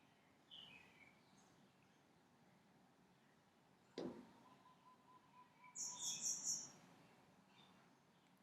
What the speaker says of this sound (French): Chaque oiseau que j'entends chanter autour